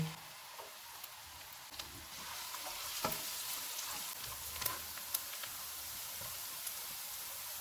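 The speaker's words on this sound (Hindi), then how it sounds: "ऑयल गर्म हो गया है, इसमें एक प्याज डालेंगे और लाइट गोल्डन फ्राई करेंगे।" A sliced onion fries in about a third of a cup of hot oil, giving an even, fairly quiet sizzle with scattered small pops and occasional light stirring, and no voices.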